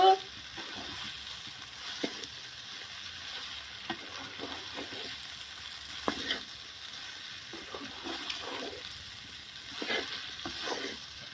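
Okra (bhindi) sizzles steadily in a pan while a spoon stirs it, with faint scraping clicks scattered through the continuous frying hiss; no one speaks.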